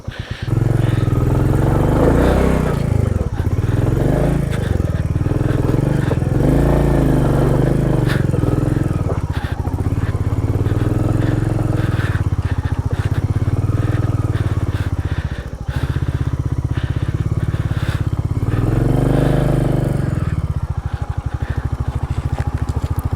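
A motorcycle on a steep mountain road in Kalimpong, North Bengal, revs hard and continuously with its rear wheel stuck, the loud engine droning and surging close by over roughly twenty seconds with gritty scraping.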